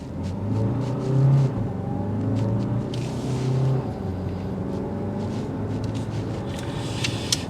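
A 2024 Hyundai Santa Fe Hybrid with 231 horsepower accelerates in sport mode, heard from inside the cabin as a steady loud engine drone and road rumble that rises in pitch, with a few faint clicks.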